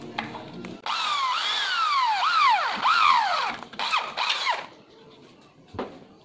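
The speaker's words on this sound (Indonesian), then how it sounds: "pas di depan kita bor dan kita pasang menggunakan paku ripetnya." Power drill boring through an aluminium door rail before blind rivets go in, a whining, rising and falling bit squeal held for several seconds, then scraping handling noises and a short burst at the end.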